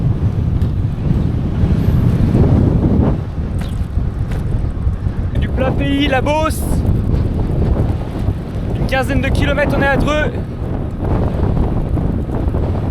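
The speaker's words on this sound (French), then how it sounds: "beaucoup de vent tout le temps" Strong wind roars across a bike rider's microphone on flat open country near Dreux on a ride from Paris toward Brittany, a steady gusting rumble under someone speaking French.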